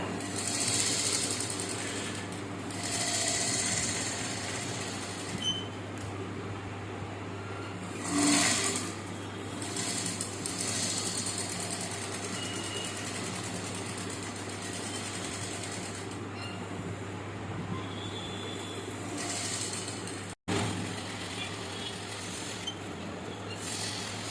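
A regular household tailoring sewing machine stitches Aari embroidery with a steady, rapid mechanical chatter, running close and continuous with brief pauses and speed changes, and no talking.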